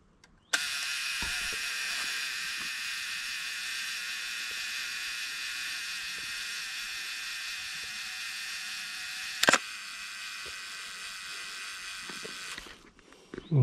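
A camera self-timer runs with a steady, faint high whirring buzz for about nine seconds, a sharp shutter click cuts in partway, and another click ends it near the close.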